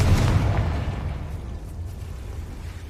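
A Confringo spell blasts in a Harry Potter-style video game, giving a loud burst that rolls into a long, fading rumble with nobody talking.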